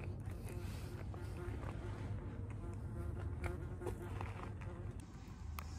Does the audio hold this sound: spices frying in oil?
no